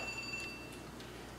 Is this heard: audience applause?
no